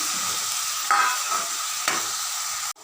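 Mutton sautéing with onions and tomatoes in a pot for Tamil mutton kuzhambu, a continuous close sizzle with a couple of brief stirring scrapes, ending abruptly.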